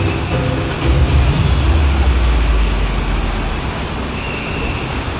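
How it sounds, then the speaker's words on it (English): The Pipeline roller coaster at SeaWorld Orlando rumbles down its drop beneath a bridge, a loud low roar of rails and rushing water that swells, then settles into a steady wash of noise. "So the drop under the bridge is where they get absolutely drenched."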